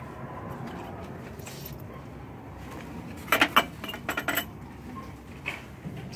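Glass items from a Dollar Tree haul clink together as they are handled, a cluster of sharp bright chinks partway through followed by a few lighter taps over a quiet room background, with no talking.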